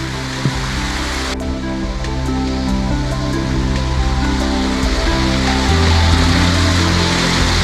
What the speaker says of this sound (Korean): 자 황금폭포라고 하네요 색깔이 황금색이 노랗게 돼서 황금폭포라고 하는 것 같습니다 인위적으로 만들어진 폭포인데요